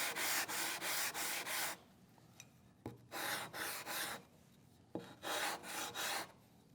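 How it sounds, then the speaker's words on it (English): Waterstone edges rubbed at an angle to chamfer them, heard as rhythmic scraping strokes in quick runs of four or five with brief pauses, close and fairly quiet. "what I like to do is run the stone at an angle all the way around"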